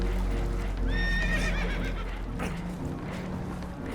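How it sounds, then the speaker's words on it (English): Spooked horses whinny in Red Dead Redemption 2, one loud, shrill neigh with a wavering pitch rising over a steady low rumble and background commotion on a damaged boat. "Horses are spooked, and we're taking on water"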